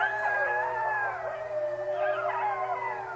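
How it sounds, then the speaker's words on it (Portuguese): Wolves howl in overlapping long, sliding wails that rise and fall together as a chorus, sustained and fairly close, with no speech. "Eles uivam para marcar o território e convocar a alcateia para a caçada"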